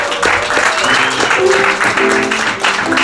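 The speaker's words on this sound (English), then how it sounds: "Give her a round of applause." Audience at a comedy show in Washington DC clapping steadily throughout, a dense continuous wash of applause with some voices mixed in.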